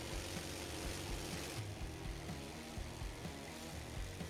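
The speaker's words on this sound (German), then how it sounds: "Der Motor soll etwas 2 Stunden laufen." A restored SU-100 tank's engine idling as it warms up, a steady low rumbling drone with a rough, knocking pulse, close and continuous for the whole clip.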